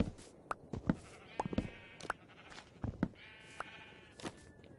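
Sheep in the video game Minecraft bleat in several short, wavering calls spread across the clip, mixed with sharp clicks and thumps from gameplay.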